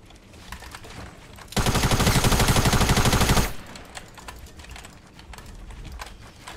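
Fortnite gunfire bursts out in a loud, dense rapid stream of shots lasting about two seconds, set among softer clicking game and keyboard sounds before and after.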